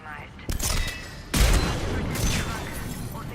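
Turret gunfire in the Mass Effect 3 video game: loud broadband bursts strike near, a sharp onset and then a heavier blast, with sustained rumbling fire continuing behind it, along with some voice activity.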